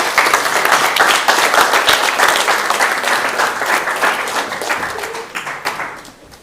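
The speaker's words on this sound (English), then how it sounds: "So I want to give you one more round of applause." Audience at a youth showcase applauding: dense, loud clapping from many hands close by, holding steady before thinning and fading out over several seconds.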